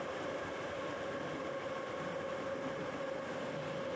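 Passengers ride a subway metro train in Russia while a steady, close rumble of wheels and carriage drones on without pause and nobody speaks.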